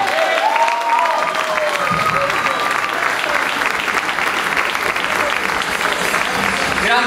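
An audience at a live rap show applauds steadily and loudly, a dense wash of clapping that continues throughout, with a few faint cheers at the start.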